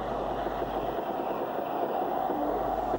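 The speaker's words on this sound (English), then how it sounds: "The train pulled out of the station and stopped just before Alexander Bridge for the buffering up of the banking engine" A4 steam locomotive 4498 Sir Nigel Gresley pulls a railtour out of Weymouth station, giving a steady, fairly loud low rumble and hum without distinct beats, with no voices.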